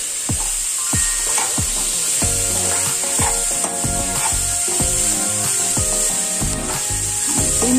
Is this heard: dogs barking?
no